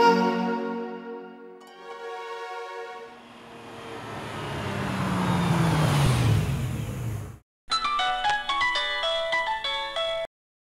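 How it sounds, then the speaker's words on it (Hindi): An unanswered mobile phone rings with a loud, close melodic tone that repeats for several seconds, following a rising swell of vehicle-like noise, with no talking. "फोन क्यों नहीं उठा रहे हैं मेरा?"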